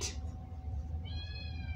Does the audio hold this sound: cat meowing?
yes